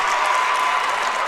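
A high school varsity boys basketball crowd in a gym cheers loudly after a 3-pointer, a dense sustained roar of cheering and clapping throughout.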